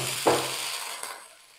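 Water is sprinkled onto a hot cast-iron griddle while rava bhakri is being made. It sets off a brief sharp sizzle and hiss that fades within about a second, with a faint second spatter.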